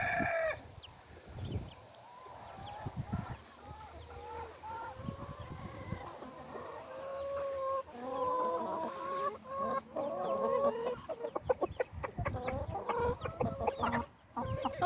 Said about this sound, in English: So that's a Pekin chicken there.